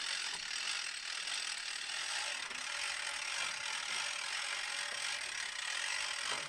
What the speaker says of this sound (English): A 2-speed winch provides easy mechanical advantage for loading large, heavy logs.